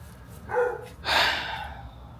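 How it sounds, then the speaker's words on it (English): A household dog gives two short barks, the second louder and rougher, indoors at moderate distance with no talking. "the dogs were acting crazy"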